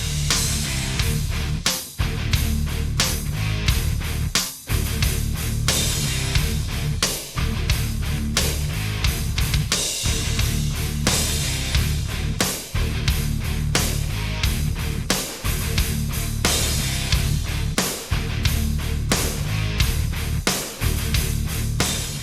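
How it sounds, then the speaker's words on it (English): A dense, punchy drum loop with a heavy layered snare cracking on a steady beat, loud and continuous with no talking. "so you can hear exactly what each one contributes to the snare sound"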